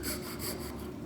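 A hand saw cutting a wooden workpiece held in a vise, close rasping strokes in a steady back-and-forth rhythm, with no voices.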